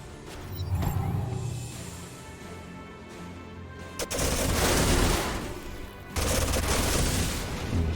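Bombard cannons firing in the video game Age of Wonders: Planetfall, heavy bursts of booming gunfire that start with a sharp crack and roll on in dense, loud volleys.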